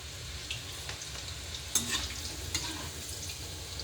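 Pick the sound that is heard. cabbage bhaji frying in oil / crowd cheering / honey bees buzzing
cabbage bhaji frying in oil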